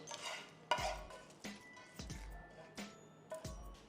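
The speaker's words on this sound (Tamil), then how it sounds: "இதையும் போட்டு மிக்ஸ் பண்ணிக்கிட்டோன்னா தயிர் சாதம் தயார்." A spoon stirs and mixes tempering into curd rice in a bowl, soft wet squishing with several distinct clinking taps spaced about every half second, quiet and close.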